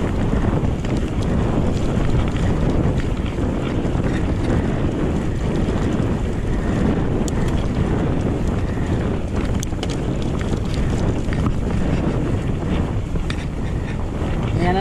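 Wind roars across the microphone during a ride past a wind farm near Riyadh, a loud, steady, broadband rush that buffets without pause for the whole stretch.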